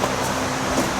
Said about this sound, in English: I do apologize for the fan.